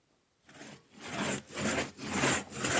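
A hand or bow saw cuts into a log in repeated push-pull strokes, each a broad rasping scrape with short gaps between them, close and fairly loud, with no talk.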